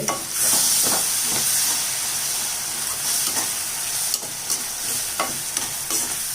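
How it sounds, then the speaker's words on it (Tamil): A ground coriander paste sizzles and hisses in a hot pan while a spoon stirs and scrapes now and then, close and steady, without speech. "இப்போ இது நல்லா வதங்கட்டும்."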